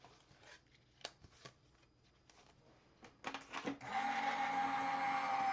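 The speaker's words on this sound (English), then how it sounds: "I'm going to go ahead and run this through my die cut machine." A die cut machine used for papercraft card making, with scattered clicks and rustling handling noises, then a steady loud mechanical whirring hum as the machine runs for the last couple of seconds.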